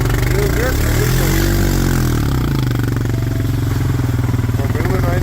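A dirt bike engine runs close and loud at a steady idle, with a chugging, slightly uneven pulse and a rise and fall in pitch early on.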